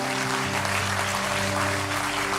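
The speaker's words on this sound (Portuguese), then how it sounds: "aplauda ao Senhor" A church congregation applauds steadily and loudly throughout, a dense wash of clapping over a sustained organ or keyboard drone.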